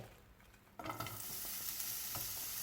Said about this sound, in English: And I'm going to add some more olive oil, just a little. And we're going to add our onions